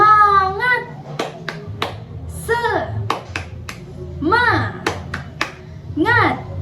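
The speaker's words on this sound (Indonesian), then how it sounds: "Begini tepuknya. Tepuk semangat." Indonesian-language classroom cheer with a few sharp, rhythmic hand claps set between chanted voices, as a teacher leads the pattern and children join in, close and fairly loud.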